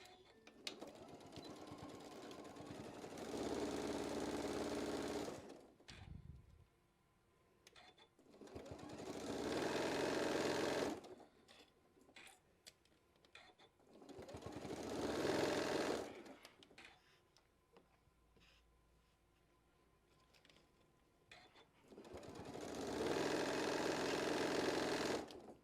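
Sewing machine stitching a quarter-inch seam on a fabric bowl cozy, four separate bursts of steady close whirring, each several seconds long, with quiet pauses between them.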